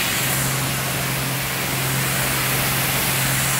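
A high-pressure hot water jet hisses and sprays at a self-service car wash in Vila Nova de Gaia, Portugal, making a loud, constant rushing noise heard up close.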